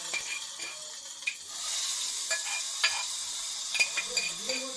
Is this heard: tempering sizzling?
yes